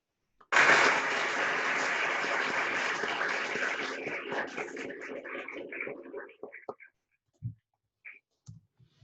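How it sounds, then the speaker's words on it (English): A round of applause at a school band banquet, a burst of many hands clapping that fades over several seconds into scattered claps. "Let's give a round of applause to Austin Martin"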